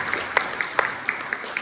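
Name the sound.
audience applause at a jazz band concert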